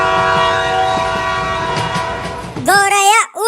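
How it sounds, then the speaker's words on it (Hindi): A cartoon train whistle blows loudly near the end, a sliding, warbling tone that follows a steady horn-like drone of a moving train. "तो जल्दी ट्रेन की सीटी बजाओ।"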